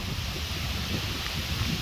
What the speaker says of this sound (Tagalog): malakas pa rin yung hangin at mas malakas sa taas